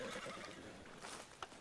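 A horse pulling a stagecoach in Red Dead Redemption 2 gives a short whinny amid faint hoof and harness noise in this brief game moment.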